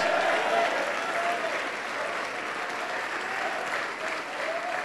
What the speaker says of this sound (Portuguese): Vamos aplaudir e glorificar o nosso Senhor